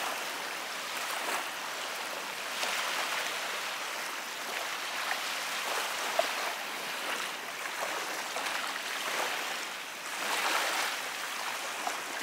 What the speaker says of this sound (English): Kind of a peaceful sound just listening to the waves lap up on the shore there.